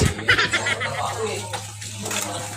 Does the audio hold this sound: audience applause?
no